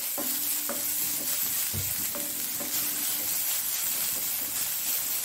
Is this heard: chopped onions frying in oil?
yes